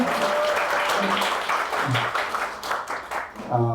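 Audience applause at a Korean community public-interest results-sharing event, moderate clapping with a voice talking over it and rising again near the end.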